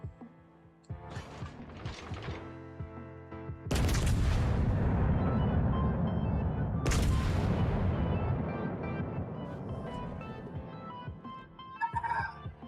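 Warship guns fire salvos in the naval combat game World of Warships: two heavy booming volleys, each with a long rolling decay, with quieter mechanical clatter between them. No one speaks.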